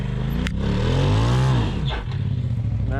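A 2020 KTM 300xc TPI dirt bike that had been submerged in water runs close by, its two-stroke engine revving up and falling back, then sputtering unevenly because it won't idle.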